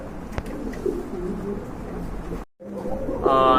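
Shatin pigeons in a dove loft coo softly nearby in low, murmuring phrases against a quiet background, with a short break and a brighter call near the end.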